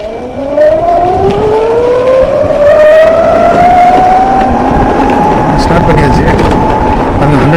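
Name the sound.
Ather electric scooter riding on road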